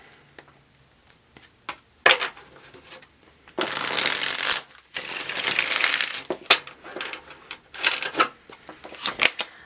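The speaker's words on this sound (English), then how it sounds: "One more shuffle." Tarot cards are shuffled by hand in a series of crisp riffling bursts and soft slaps, some long and dense and others short, close up with no talking.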